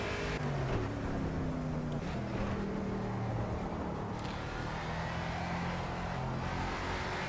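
Race car engine in a racing video game revving and stepping down through gears, with rising and falling engine tones broken by quick shift drops, heard steadily throughout at moderate, somewhat quiet level without talking.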